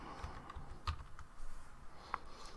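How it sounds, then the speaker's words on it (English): Quick, light keystrokes tapping on a computer keyboard in irregular bursts, fairly close and clear over a faint background hiss. "Typing in the text."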